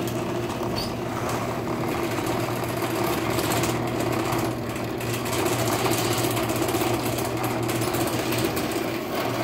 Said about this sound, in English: I'm gonna have to short across with the screwdriver to run it